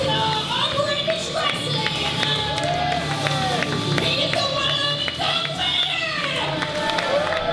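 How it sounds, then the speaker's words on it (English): Wrestling crowd clapping in rhythm for Doug Williams, loud rhythmic claps and cheers filling the arena with an excited commentary voice talking over them. "Everyone clapping, getting behind Doug Williams"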